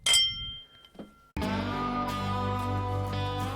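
Glasses clink together in a bourbon toast: a bright ringing chime that fades, a softer tap, then a sustained resonant ringing tone that lingers to the end.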